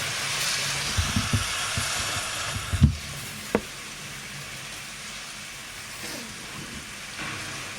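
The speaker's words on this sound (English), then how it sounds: "I realised I was going to have to turn to my relaxing rain sounds app" Recorded rain from a relaxing sleep-sounds app: a steady soft hiss of falling rain with a few louder taps and knocks scattered over the first few seconds.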